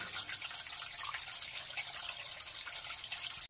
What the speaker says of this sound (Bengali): প্যানে আমি পরিমাণ মতো পানি দিয়ে নিচ্ছি